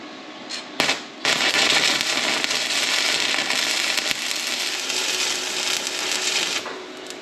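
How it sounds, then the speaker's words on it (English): Welding angle iron onto an old farm implement, a loud close crackling and sizzling arc that starts after a couple of short bursts and runs continuously for several seconds with small breaks. "we're going to go ahead and weld that up a little bit stronger"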